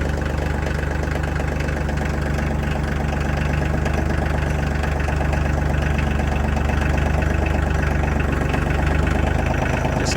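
A diesel tractor engine idles steadily while warming up on a farm, a continuous loud low rumble with rapid knocking pulses and even vibration throughout, no voices.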